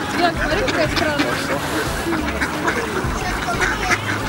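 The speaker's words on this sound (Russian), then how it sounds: "Просто это обычные утки с синими крыльями." Ducks with blue wings quack on a pond in Severnoye Tushino park in Moscow, repeated calls under steady outdoor background noise while people talk nearby.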